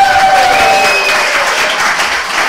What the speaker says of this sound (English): let's give a big round of applause for Katherine Macfarlane